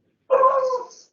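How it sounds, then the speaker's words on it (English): Single short dog whimper or yelp in the background of an online committee meeting, a brief clear cry lasting under a second with no talk over it. "And I apologise for my dogs in the background again."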